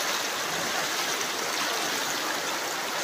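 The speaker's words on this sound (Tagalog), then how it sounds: "Ang sarap magtampusaw sa ilog." A river rushes steadily around someone wading through it, a continuous broad close wash of flowing water with no voices.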